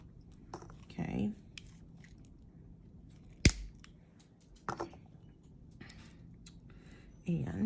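Scissors snip through the chain of a seed bead beach-style necklace, a few short, sharp cuts spaced apart, with quiet talking in the background between them.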